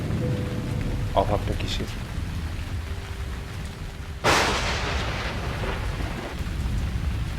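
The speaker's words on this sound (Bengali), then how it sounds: "উপরে বারান্দা থেকে বৃষ্টি দেখতে খুব ভালো লাগে" Steady rain patters outside a balcony while a sharp thunderclap cracks partway through and rumbles away; a voice speaks briefly under the downpour.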